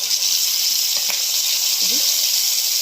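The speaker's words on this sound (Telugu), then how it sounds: "అల్లం వెల్లుల్లి పేస్ట్ కూడా ఇప్పుడే వేస్తున్నాను" Ginger garlic paste dropped into a hot pan with fried onions while making crab curry, giving a steady, bright sizzle throughout, with a few soft stirring scrapes near the end.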